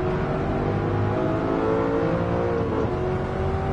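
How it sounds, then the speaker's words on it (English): A loud Alfa Romeo car engine in Gran Turismo 7 drones steadily throughout, its harmonic whine holding a sustained, powerful tone with no talking. "that Alfa Romeo sounds really good."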